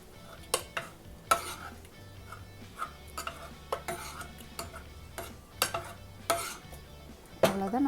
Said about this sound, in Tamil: நீங்கள் மத்து இருந்துச்சுன்னா மத்து வச்சு நல்லா கடைஞ்சி விட்டுருங்க.